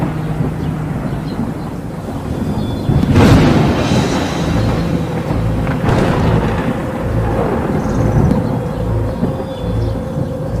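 Thunder rolls through a dark sky during a lightning storm, with loud rumbling cracks building over steady rain and a continuous low roar.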